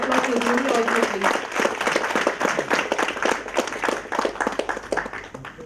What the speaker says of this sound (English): Let's give a hand of applause to Julie also,